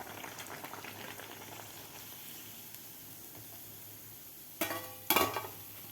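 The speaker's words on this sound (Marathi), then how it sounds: "आता बाकीसुद्धा आपल्याला अशा प्रकारेच तळून घ्यायचे आहेत." Batata vada frying in hot oil, a soft steady bubbling sizzle that runs evenly, then two loud metallic clatters of a utensil against the pan near the end.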